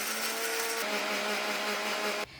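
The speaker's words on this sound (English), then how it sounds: "Now into the small mixie jar, I grind handful of cashew nuts and a teaspoon of sesame seeds" A small mixie grinder jar grinding cashew nuts and sesame seeds whirs with a steady high motor whine that shifts pitch partway through as the load changes, then stops abruptly.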